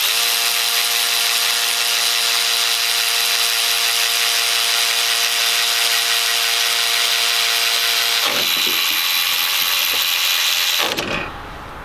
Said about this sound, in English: So we're gonna go ahead and just put both ratchets on and do a little speed test.